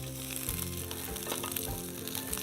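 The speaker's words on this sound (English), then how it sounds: "I'm going to go ahead and just throw them in. See, you hear the sizzle?" Asparagus spears sizzle and fry loudly in hot coconut oil, a steady crackling hiss with no talking.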